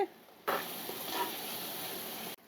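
Onion pieces frying in hot oil for a curry, a steady, close hissing sizzle that starts abruptly and holds for about two seconds before cutting off, with no voices.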